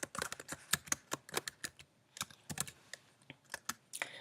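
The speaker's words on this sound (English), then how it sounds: "Before the page number, you're going to type your last name." Rapid, uneven keystrokes clatter on a computer keyboard, close and crisp, with short pauses between bursts of typing and no voices.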